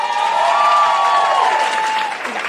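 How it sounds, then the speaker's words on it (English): A convention audience at a New Jersey fan event applauds a panel, a dense, loud burst of clapping and cheering that swells and then begins to fade. "We demand that we get 2 sets of applause."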